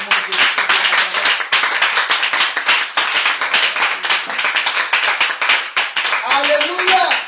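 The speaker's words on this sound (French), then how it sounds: "acclamer puissamment notre Dieu. Acclamons Jésus de Nazareth" A church congregation claps in steady, rapid acclaim throughout, loud and sustained, with voices calling out and singing beneath the clapping.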